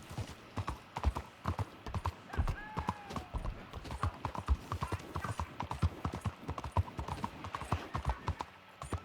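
Horse hooves at a gentle jog in the video game Red Dead Redemption 2, a steady rhythmic clip-clop close up with a brief whinny early on, under faint background ambience.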